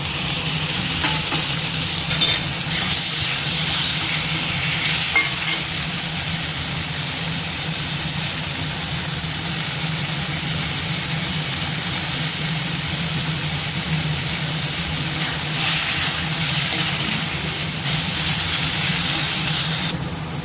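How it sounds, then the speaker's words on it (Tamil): Chopped tomatoes fry in a pan with ginger and garlic for a peas and beans masala, a loud, continuous hiss and sizzle with steady steamy crackle and occasional stirring swells, close by and without talk. "கட் பண்ணி வச்சுருக்க தக்காளி சேர்த்து"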